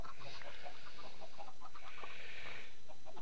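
Minecraft chickens clucking, a string of short, soft clucks and squawks at an uneven pace, with a brighter call in the second half, moderately quiet with no voices.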